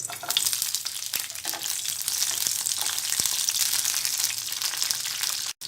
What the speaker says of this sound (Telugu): ఆయిల్ వేడైన తర్వాత పచ్చిమిరపకాయలు వేయించుకోవాలి